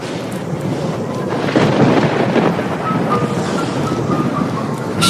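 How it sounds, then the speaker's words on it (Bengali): A heavy storm roars with dense rain and a deep rumble of thunder swelling midway, loud and continuous. "সেরকম ঝড় বৃষ্টি শুরু হলো, তুমুল বৃষ্টি আর সাথে বজ্রপাত"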